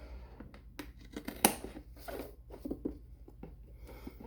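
Scissors snip and cut through the front of a homemade birdhouse, with short crisp cutting and rustling strokes spread across the moment, close and moderately quiet.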